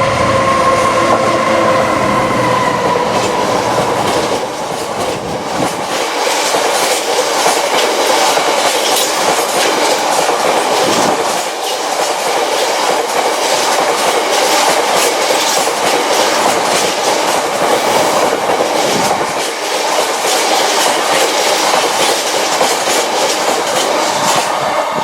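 A Class 66 freight locomotive with its wagons rolls past a Yorkshire station platform, a loud, continuous roar of wheels and rhythmic clickety-clack lasting the whole time, close by with no talking.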